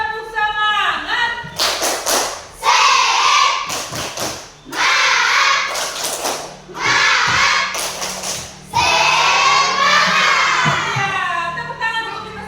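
Schoolchildren repeat a rhythmic spirit clap chant, sharp group claps and thuds alternating with loud unison shouting in repeated bursts, close and energetic.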